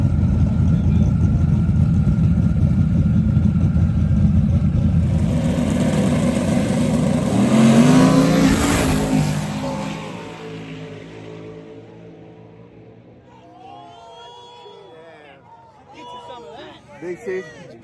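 Race cars roar past at a drag-style event featuring the car Big Chief against an opponent, a loud sustained engine rush swelling to a peak around the middle, then fading as crowd voices and chatter take over.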